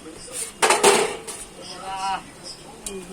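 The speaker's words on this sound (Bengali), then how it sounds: "এবারে আমি ঢাকাটা খুলে দিলাম" A lid comes off a pot of cooking fish curry with a metallic clank and scrape, followed by a brief ringing resonance and soft clinks of cookware, close by, with a voice speaking over it.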